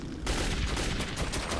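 Loud, sustained gunfire in the Metro 2033 video game, a dense continuous volley of rapid shots up close with no pauses, and no voices over it.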